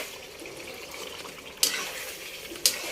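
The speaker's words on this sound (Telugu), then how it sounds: "గరిటె పెట్టి కలుపుకొని ఏమవుతుంది," A ladle stirring fish masala gravy in a pot, a soft continuous bubbling sizzle broken by two sharp scraping clinks of the ladle, close and moderately quiet.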